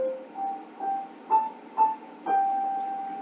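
A piano plays the short melody C C G G A A G, one note at a time at an even pace. The notes step upward and the final tone is held, with no one speaking.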